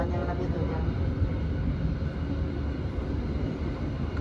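Steady low rumble of a long local train near Garut, Indonesia, passing close by, continuous and loud, with no break throughout.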